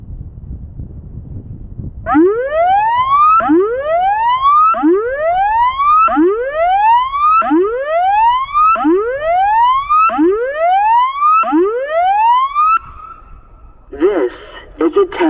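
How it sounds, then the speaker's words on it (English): A tsunami warning siren test in Christchurch gives about eight loud, rising whooping tones in steady succession, each sweeping upward, followed by a brief spoken announcement at the end. "This is a test of the tsunami warning sirens."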